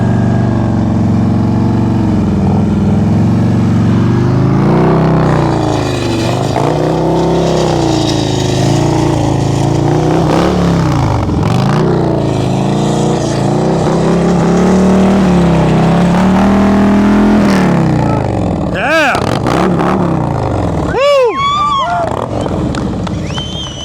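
A motorcycle engine revs and strains continuously during advanced slow-speed riding practice in Massachusetts, the clutch slipping and smoking; the loud, wavering drone runs near and steady, with brief sharper rev swoops toward the end and talk beneath.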